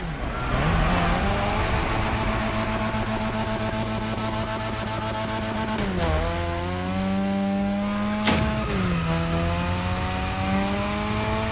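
A modded Mazda RX-7 2.0 in The Crew Motorfest revs hard and steadily, its high rotary engine note climbing through gears with two sharp drops at shifts, loud and close with no talk over it.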